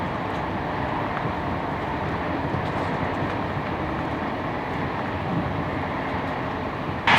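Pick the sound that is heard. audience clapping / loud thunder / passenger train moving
passenger train moving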